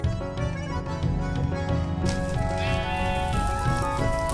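A sheep bleating in the Minecraft video game, repeated wavering bleats over steady background music that plays throughout.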